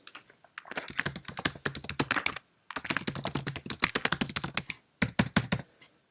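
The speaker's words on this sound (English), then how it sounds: "Let's type something in." Rapid typing on a computer keyboard, close and crisp, in three bursts of quick clicking keystrokes separated by short pauses, with no talk.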